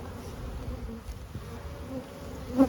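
Honeybees at an open hive hum in a steady, close buzz that carries on throughout, with no talk over it.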